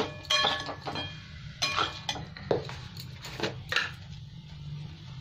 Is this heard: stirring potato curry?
yes